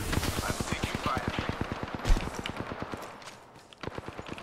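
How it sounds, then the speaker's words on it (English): Rapid automatic gunfire in a live online video game shooter, a steady fast burst of shots with a brief pause and louder hit midway, then more firing; players talk over it. "I'm taking fire."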